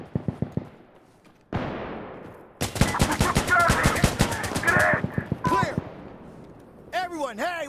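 Close, loud automatic gunfire in Insurgency: Sandstorm, with a few short bursts and then a long sustained rattle of rapid shots, followed by further effects and brief voices.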